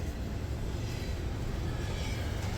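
A freight train carrying piggyback trailers rolls past, a loud, continuous low rumble of wheels and railcars that holds steady throughout.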